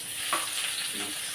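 Chopped onion sizzles and fries in a hot pan while a home cook prepares a simple vegetable dish, a steady close hiss with a brief stirring scrape, no talking.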